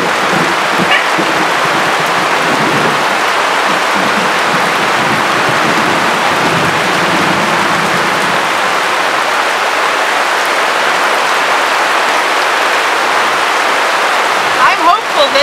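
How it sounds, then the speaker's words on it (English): Rain falls during a thunderstorm as a steady, loud, broadband hiss that runs unbroken throughout, with low rumbling mixed in during the first half. "It's just lightning after all."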